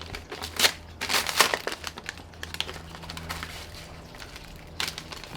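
A plastic bag crinkles and rustles in several sharp, close bursts while an Air Arms S410 TDR air rifle box is unpacked, then quieter handling sounds over a low hum.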